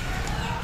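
Chickens cluck briefly and faintly against a noisy outdoor backdrop, a short burst of fowl calls.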